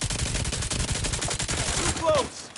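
Sustained automatic gunfire in The Division, a fast steady stream of shots fired close and loud for a couple of seconds, with a short electronic chirp near the end.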